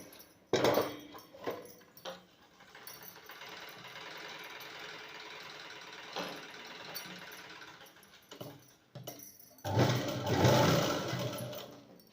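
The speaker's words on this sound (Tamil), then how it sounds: "இப்போ நம்ம இது மேலே ஒரு ஸ்டிச்சஸ் போட்டு வந்துடலாம்." A sewing machine stitches a blouse side seam, running in steady whirring bursts with brief stops between, loudest near the end; no talking.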